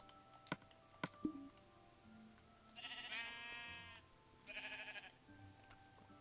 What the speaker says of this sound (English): I'll kill these sheep for you.